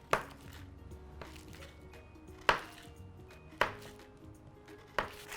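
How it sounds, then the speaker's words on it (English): A knife cuts through a chilled cranberry butter cookie dough log on a board, giving four sharp, separate thuds spaced about a second apart, each followed by a faint ringing decay, with no talking. "Then later we can use a knife and cut it up."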